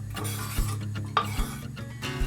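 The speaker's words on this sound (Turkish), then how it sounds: "Böyle karıştırıyoruz." Meat and onions stirred in a hot pan, a spoon scraping and clinking against the metal in quick repeated strokes over a steady sizzle, close and fairly loud.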